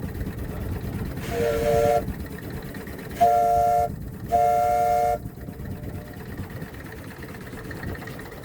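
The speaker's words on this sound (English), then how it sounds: "Okay, blow the whistle." A steamboat whistle blows three times on a lake, one short blast then two longer, loud tonal toots over a low engine rumble.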